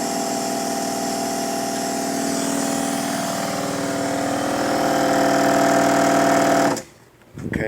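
A Ford Expedition engine runs steadily after the key is turned, a dense, even mechanical hum with a faint whine, close and constant, then abruptly dropping off near the end.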